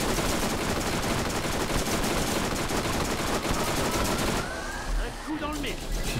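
Rapid automatic gunfire sprays continuously and loudly in the video game Borderlands, a dense unbroken burst that cuts off abruptly near the end, leaving quieter game sounds.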